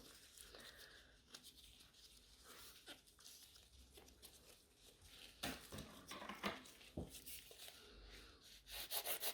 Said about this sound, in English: I'm filing nice and straight, and then I take off the corners